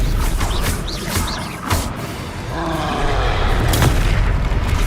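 Confringo spell explosions in Hogwarts Legacy combat: loud, repeated booming blasts with whooshing magic and rumble, dense and close, with little talk.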